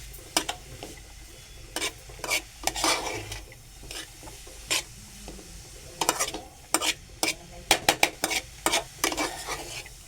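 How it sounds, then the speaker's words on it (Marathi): Grated carrots sautéed in a pan for carrot halwa, a spoon scraping and stirring in bursts with a soft sizzle underneath, close and fairly loud, no talking. "पण परतून घेऊया तो"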